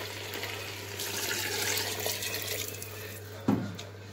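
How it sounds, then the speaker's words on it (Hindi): Water poured into a pot of browned beef and potatoes for curry, a soft splashing stream building over a few seconds, then a brief clank near the end, close and fairly quiet, no voices. "अब हम इसमें ऐड करेंगे पानी"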